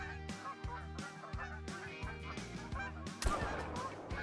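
Many geese honk in the Call of the Wild hunting game, a dense, overlapping chorus of calls repeating throughout with a louder burst near the end, fairly close.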